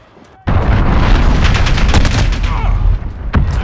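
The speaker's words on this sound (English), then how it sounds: "Enemy cruise missile incoming." A cruise missile blast in Call of Duty: Modern Warfare (2019) hits as a sudden loud boom after near silence, then a long rumbling roar with crackling debris and gunfire-like bursts, plus a second thump near the end.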